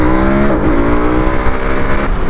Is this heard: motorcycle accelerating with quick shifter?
yes